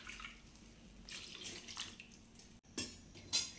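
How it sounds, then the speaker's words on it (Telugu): Water poured into a simmering curry (kurma) in a home kitchen, giving soft splashing and trickling bursts that swell and fade, with brief louder pours near the end and no talking. "నేను ఇంకాస్త వాటర్ పోసుకుంటున్నా."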